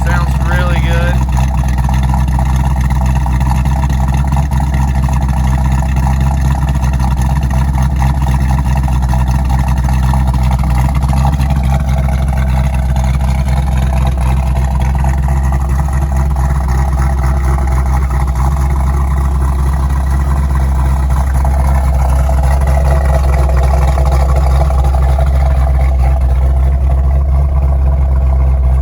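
A 1968.5 Ford Mustang R-code 428 Cobra Jet V8 with an upgraded cam, four-speed and 4.30 gears, runs continuously for nearly half a minute with a deep, steady, loud rumble.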